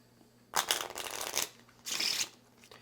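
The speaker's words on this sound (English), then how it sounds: "and then you can go ahead and give it a shuffle" A deck of Dragonwood game cards being shuffled by hand, two quick riffling bursts separated by a short pause, close and crisp in a quiet room.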